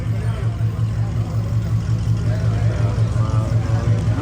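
A car's engine rumbles steadily and loudly up close as it drives off at a public auto auction, with voices talking over the low drone throughout.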